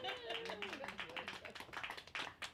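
Sparse, light clapping from a small comedy-club audience patters along under a voice as he keeps talking over it.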